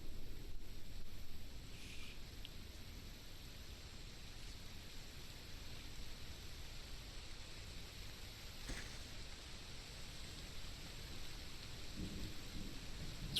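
Steady rain falling in the Solarpunk video game, a soft continuous wash with low rumbling, faint and unbroken throughout with no talking.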